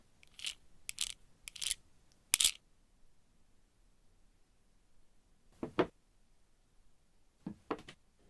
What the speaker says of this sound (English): Or props can be silly, like a can opener.